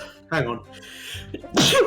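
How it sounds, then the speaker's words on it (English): A sneeze bursts out sharply near the end, preceded by a brief spoken phrase, close and loud. "I sneezed."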